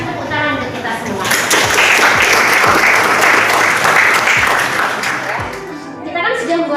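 Applause from a classroom of teachers in training fills the space, a steady dense wash of clapping that stays loud throughout and tapers slightly at the end.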